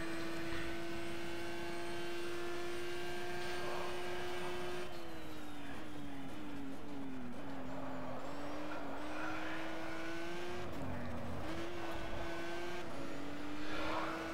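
A race car engine from GTR2, a 2003-season game, drones steadily at Circuit de Catalunya, its pitch dipping and climbing through gear changes and braking, loud and up close with no one speaking.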